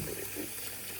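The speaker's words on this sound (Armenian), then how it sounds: "Pourquoi tu as lavé le poireau?" Tap water running into a kitchen sink while a leek is washed, a steady close hiss and splash that fills the whole brief moment without talk.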